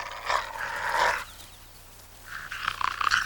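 A wild jackal growls in two low, rasping bursts separated by a short pause, close and fairly loud, with no other sounds around it.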